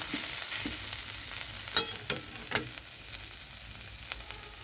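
Beto greens frying in a pan, a quiet steady sizzle with several sharp clinks and scrapes of a spatula against the pan in the middle.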